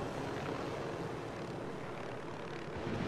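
A helicopter in the video game Ghost Recon gives off a steady, dense engine and rotor drone that holds at an even level for the whole stretch, close and constant, with no talking.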